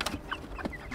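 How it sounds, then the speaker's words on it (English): Chickens cluck softly while being fed, a few short close calls in quick succession over a quiet farmyard background. "mom is feeding the chickens"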